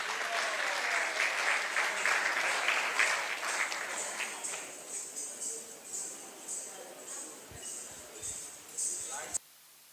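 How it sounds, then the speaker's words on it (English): A crowd claps steadily to welcome an Odissi dancer, loud at first and gradually thinning out, with voices mixed in, ending in a few soft taps and a sudden cutoff. "A big round of applause"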